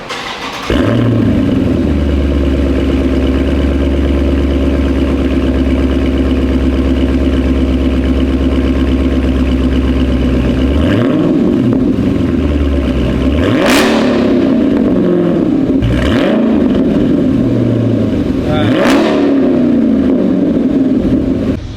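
A Dodge Charger with a Valvetronic exhaust cranks and catches, settling into a loud, steady idle, then several sharp revs climb and fall back late in the clip.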